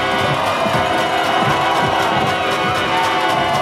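Sideline crowd cheering on the defense at a high school football game between John Curtis Christian and Teurlings Catholic, a loud, steady roar of voices filling the air throughout.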